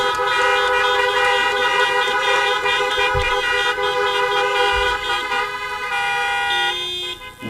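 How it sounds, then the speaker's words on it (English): Car horns honk continuously in a loud, sustained chorus of overlapping tones at a drive-in graduation ceremony, with a few brief low thumps, trailing off at the end. "Can I hear some honks for our faculty"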